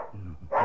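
A dog barking in a Hungarian audio drama, a short loud bark near the end after a brief low vocal sound, close and clear.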